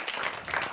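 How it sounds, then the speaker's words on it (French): Brief burst of audience clapping for a child contestant at a children's game show, a dense close patter of hands lasting under a second. "Applaudissez pour lui."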